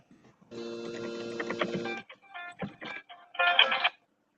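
Electronic telephone tones come through during a cold call, with a long buzzing ring-like burst followed by several choppy, broken chirps and a final brief trill, fairly clear against a quiet line.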